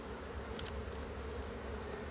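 Honey bees hum steadily around an opened hive, a constant close drone with a couple of faint high clicks.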